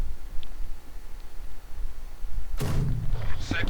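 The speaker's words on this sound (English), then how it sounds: "there we go, 120mm mortar fires away" A 120mm mortar fires in Company of Heroes 2 battle, one sharp heavy boom about two-thirds through after quiet ambient noise, followed by a rumbling tail.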